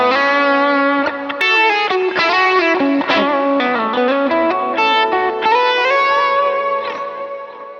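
A Telecaster's bridge pickup with the tone knob fully up plays a sustained run of very bright, trebly guitar notes and chords, loud and continuous with a touch of effects and reverb.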